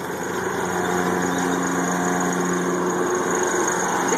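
A riding lawn mower's small engine runs steadily at a constant drone, close and loud, with no break throughout.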